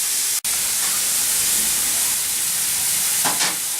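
Home fries sizzle steadily in a hot pan, a loud, continuous broadband frying hiss that runs throughout with one brief dropout near the start and a few light scrapes toward the end.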